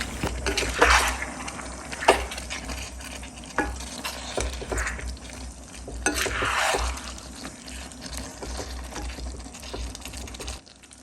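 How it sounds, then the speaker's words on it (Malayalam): A Kerala-style beef roast is stirred in a pan while its water cooks off. Spoon scrapes and clatters recur over a continuous sizzle, close and fairly loud, with no speech. "ഇതിലൊക്കെ വെള്ളമൊക്കെ വറ്റുന്നവരെ നമ്മൾ വേവിച്ച് ഇളക്കി കൊടുക്കണം."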